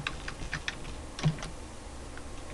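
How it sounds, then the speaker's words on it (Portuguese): Text being typed on a computer keyboard: a quick burst of light key clicks followed by a few sparser taps and one heavier keystroke, fairly close and fairly quiet. "vou digitar Fashion"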